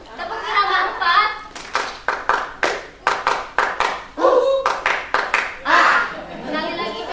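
Hand claps from a group of mothers at an Indonesian posyandu health-post session, beating out a combined clapping rhythm of short sharp bursts in distinct patterned groups, with talk between phrases.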